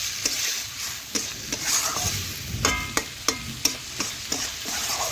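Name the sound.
chicken sautéing with spices in a pan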